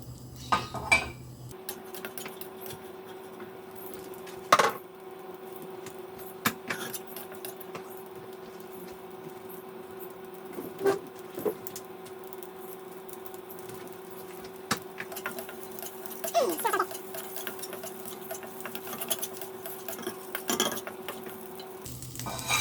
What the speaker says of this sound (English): Next, I like to just stir fry the Chinese sausage a little bit.